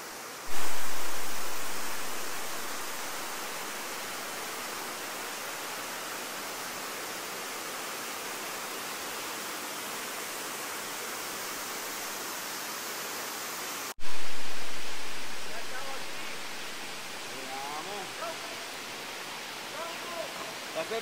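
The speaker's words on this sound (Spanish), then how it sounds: "quiero que vean esta impresionante cascada" Salto Santa Clara waterfall roars beside tall rock walls, a dense, loud, steady rush of falling water with no break, briefly cut partway through before resuming just as strong.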